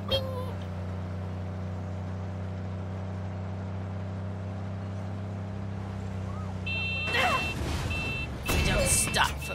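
In Far Cry 6, a truck's steady engine drone runs throughout, then its horn honks in several loud, rapid bursts near the end amid rushing noise.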